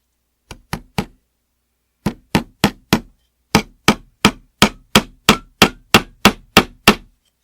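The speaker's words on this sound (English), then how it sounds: "we are going to hammer our nail through the middle of the board from the back" A hammer drives a nail through a wooden board from the back: sharp, close wooden knocks, three at first, then a steady series of evenly spaced blows after a pause.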